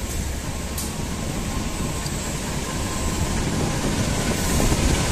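A stainless-steel passenger train hauled by a CC203 diesel locomotive rolls past at an Indonesian railway station, giving a steady broadband rumble with a faint hiss that swells slightly toward the end, with no talk over it.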